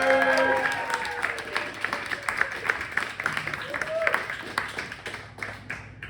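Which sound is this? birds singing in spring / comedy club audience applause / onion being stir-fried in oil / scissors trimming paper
comedy club audience applause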